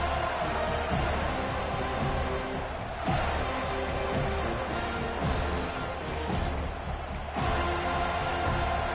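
A college football stadium crowd in the NCAA 25 video game roars continuously and loudly, with swells of cheering rising and falling over a dense background din.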